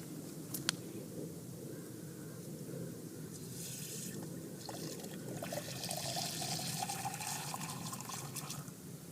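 Well water pours steadily into a sample container, a continuous trickling, splashing stream that rises slightly as the vessel fills, close and moderately quiet.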